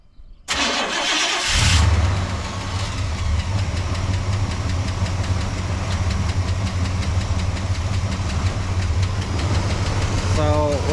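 A Chevy C30 dually truck with aftermarket exhaust cranks and fires up, then settles into a loud, deep, slightly uneven idle from its fuel-injected engine, close by and steady to the end.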